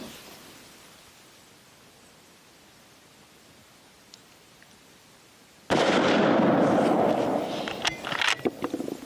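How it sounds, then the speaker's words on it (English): A single loud Weatherby .240 rifle shot fired at an outdoor range, a sudden blast after a quiet stretch, with a lingering rumbling tail and a few small clicks. "now I pulled that trigger way before I was ready"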